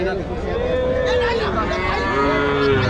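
Cattle moo at a village cattle market, long drawn-out calls overlapping one another close by, with crowd chatter and voices in the background.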